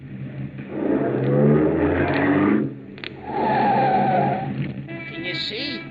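A car accelerates hard in pursuit to draw alongside another car, engine roaring loud and close in two long surges separated by a brief dip, with tires skidding and squealing, then a quieter stretch with voices near the end.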